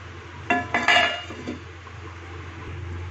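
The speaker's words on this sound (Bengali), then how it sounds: "দিয়ে এবার আমি একটা ঢাকনা দিয়ে দিচ্ছি।" A metal lid clanks onto a cooking pot of katla fish curry with ridge gourd and potato, a few quick close metallic knocks followed by a quiet simmering background.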